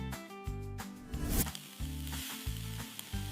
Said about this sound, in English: Grill the chicken on a warm fire.